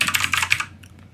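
A quick burst of rapid keystrokes on a computer keyboard, loud and close, with clicks packed together for under a second before tapering off.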